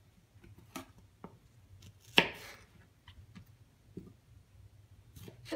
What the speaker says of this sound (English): This one I'm going to cut the pieces a little differently for the curry, and that'll be like slightly bigger chunks.